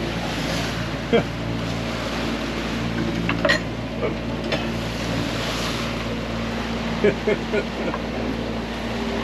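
A boat off Antigua pounds through choppy waves heading straight into the wind, with a steady roar of wind and water, a low engine hum and occasional thumps and splashes as the hull hits the swell.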